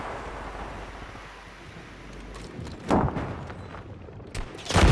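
Call of Duty gunfire crackles in bursts across a windy, rumbling backdrop, with louder close shots landing near the end; no voices.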